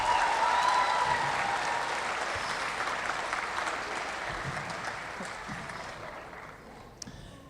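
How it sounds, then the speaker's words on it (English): Sustained applause from a large crowd at San Bernardino County's State of Education Address, loud at first with a brief whistle or cheer, then slowly fading over several seconds. "Another round of applause"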